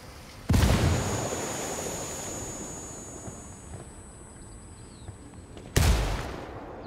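Two heavy grenade blasts in the Ghost Recon Wildlands multiplayer mode Ghost War. Each one bursts in sharply and fades into a long rumbling decay, about five seconds apart, with no voices over them.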